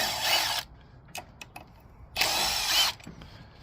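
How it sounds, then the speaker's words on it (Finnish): A power tool whirs in two short bursts while loosening screws on a Harley-Davidson motorcycle, with quiet clicks and small taps between the runs. "Näiden ruuvien aukaisussa kone on näppärin."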